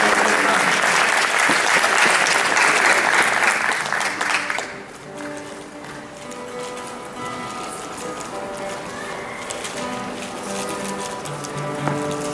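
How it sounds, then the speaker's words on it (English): Loud audience applause at a state fiddle championship welcoming a contestant to the stage, dense clapping that fades after about four seconds into quieter ambience with faint instrument tones. "Nice round of applause, please."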